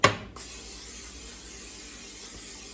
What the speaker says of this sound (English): take some olive oil spray